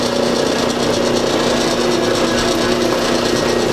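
MIG welding with a Harbor Freight Chicago Electric MIG 180 fitted with an HTP replacement gun, giving a loud, continuous, even buzzing crackle held without a break from start to end, close up and with no voices.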